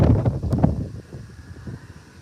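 Gusty wind blows outdoors at a night light setup in New Brunswick, Canada, buffeting the microphone in low rumbling bursts that are strongest at first and then ease into a softer, steadier rush.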